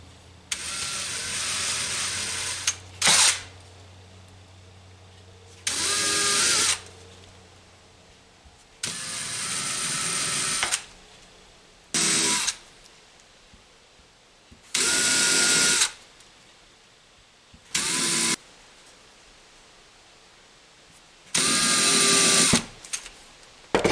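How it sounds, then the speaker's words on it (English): Small drill bit boring fret marker dot holes into a guitar fretboard, about eight short bursts of high whining drill spin, each a second or two long, separated by quiet pauses. "Very small drill bit just to get your hole started."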